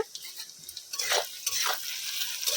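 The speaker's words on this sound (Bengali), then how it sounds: "আর এইদিকে পেঁয়াজ ভাজা চলছে" Onions frying in a pan, heard as an uneven sizzle with bursts of scraping and stirring from a utensil, rising and falling in loudness.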